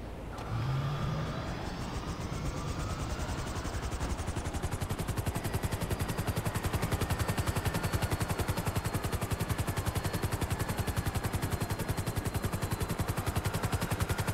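Rapid, sustained automatic gunfire from explosive weapons in the video game GTA V rattles on as a dense, loud, evenly paced stream of shots after a brief opening sound.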